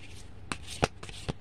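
Fortune-telling cards are handled and shuffled close up, with a few soft riffling snaps and slides over about a second and a half, with no talk.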